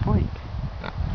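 A person imitates a pig's oink in a short throaty grunt near pigs that have just been fed, close and fairly loud.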